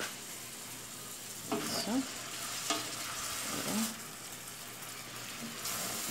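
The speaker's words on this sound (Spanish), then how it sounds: "Voy a agregar la cebolla, mis queridos corazones, allí. Allí, para hacer el sofrito." Chopped onion sizzles in hot oil for a sofrito as it is stirred in a pan, a steady close frying crackle with a few scraping stirs and clatters, and a brief spoken word over it.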